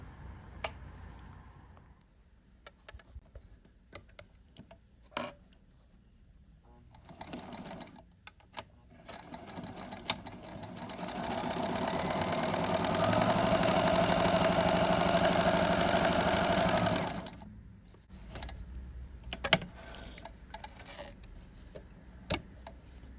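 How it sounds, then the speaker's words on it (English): A small Kenmore sewing machine, model 15810401, sews a straight stitch in one steady run of close, even whirring and ticking lasting several seconds, framed by quieter handling clicks before and after. "For now, I'm going to leave it on straight stitch, and we're going to straight stitch."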